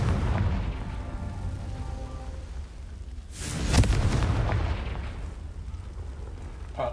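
Confringo blasting spell in the video game Hogwarts Legacy, a loud booming explosion midway through over a constant rumbling game background, with no talk.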